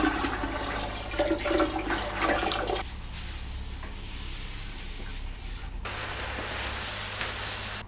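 Water runs steadily into a vessel for home brewing a New England IPA, a loud continuous rushing that cuts back and drops partway through, then resumes, with no talking.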